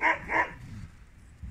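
A dog gives two quick, fairly close barks in a row outdoors, followed by a quieter low sound and faint background noise.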